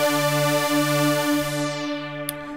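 A Logic Pro ES2 synth preset called Glider Wave sounds a steady, bright harmonic tone with gently pulsing movement, its top end fading away before a short click near the end.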